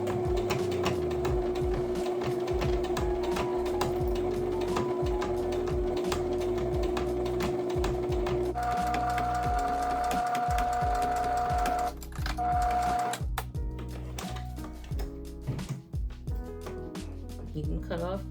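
A sewing machine stitches fabric for a Bible bag, running steadily with a sustained motor hum and rapid needle rhythm close up, pausing briefly then resuming, with no talk over it.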